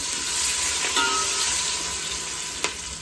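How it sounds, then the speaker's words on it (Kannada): Hot oil sizzles steadily with a constant crackling hiss, loud and close, as curry leaves fry in a pan for fish sambar. "ಸ್ವಲ್ಪ ಕರಿಬೇವು ಸೊಪ್ಪು ಹಾಕ್ತಾ ಇದ್ದೀನಿ"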